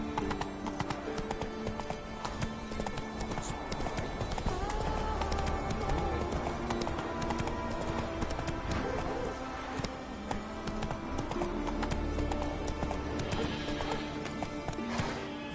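A horse gallops in The Witcher 3 with rapid, continuous clip-clopping hooves and an occasional whinny, all set in a dense in-game soundscape with music and ambience, a voice briefly heard.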